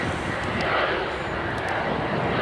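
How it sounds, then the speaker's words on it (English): A train, number 256 led by locomotive 901, arrives at a station as a loud, steady, broadband roar that fills the whole stretch without pause. "Here comes Scale Train 256 with 901 leading"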